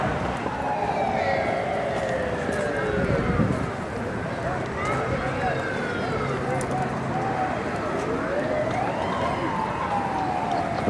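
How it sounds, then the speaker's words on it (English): An ambulance siren wails on a road just north of a football field, its rising and falling tone sweeping past continuously under a commentator's voice and crowd noise. "there's an ambulance going to be coming through there"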